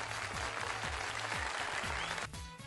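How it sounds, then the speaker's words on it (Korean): A children's Sunday worship group claps in thanks, a fairly steady wash of many hands with a rhythmic low thumping pulse beneath, ending abruptly. "오늘 예배 함께 해주시고 은혜 주신 우리 하나님께 먼저 감사의 박수 올려드릴까요?"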